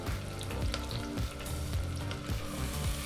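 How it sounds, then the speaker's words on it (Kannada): Onions and fenugreek leaves fry together in a pan for methi pulao, giving a steady close sizzle with faint scraping stirs, no voices. "ಈರುಳ್ಳಿ ಮತ್ತು ಮೆಂತ್ಯ ಸೊಪ್ಪನ್ನ ಎರಡನ್ನೂ ಜೊತೆಗೆ ಫ್ರೈ ಮಾಡ್ಕೋಬೇಕಾಗತ್ತೆ"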